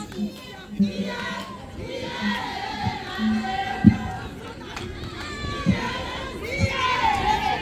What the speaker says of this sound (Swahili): Lazima tumpigie makofi na tumpigie makofi mzuri.